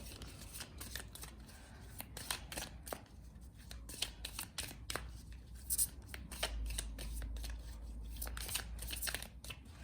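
A deck of tarot cards being shuffled and drawn, with dense, rapid papery riffles and flicks in quick bursts, close up and fairly loud, with a low rumble beneath and no speech.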